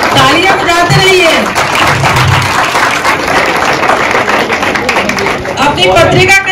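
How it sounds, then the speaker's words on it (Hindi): An audience at an institute magazine release ceremony keeps clapping, a steady patter of hands that sits under someone speaking loudly over it. "तालियां बजाते रहिए।"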